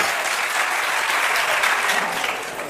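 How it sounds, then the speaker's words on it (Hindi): Steady applause from an audience at a Jain monk's religious discourse, dense and continuous clapping at even loudness that fades slightly toward the end, with no talking over it. "ताली तो बजा, तुम्हारे लिए बोल रहा हूं मैं।"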